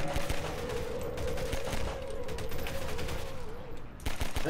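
Pistol fire against zombies in Garry's Mod rattles in a dense, continuous barrage of rapid shots, loud and close, with a steady electronic hum beneath.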